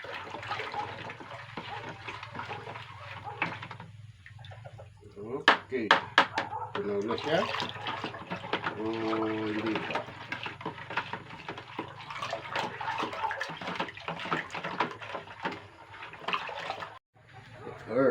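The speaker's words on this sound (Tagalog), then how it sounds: "Tapos dadagdagan na lang natin ng tubig ulit." Water is poured into a bucket of fermented chicken feed mix made with molasses, a splashing, gurgling pour that runs for several seconds while a person talks over it.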